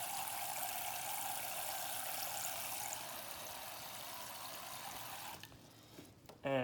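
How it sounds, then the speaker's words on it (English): Water runs steadily from a tap into a pot or bowl being filled about halfway for boiling eggs, a continuous close pouring rush that stops near the end, followed by brief handling noises. "we'd want to fill it about halfway with water."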